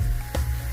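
Short burst of sizzling as dal goes into a hot pan over fried vegetables, close and brief against a steady low hum.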